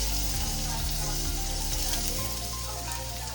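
Grated coconut tossed into hot oil for a tapioca biryani, giving a dense, even sizzle that fills the whole short stretch at close range, with a low steady hum beneath it.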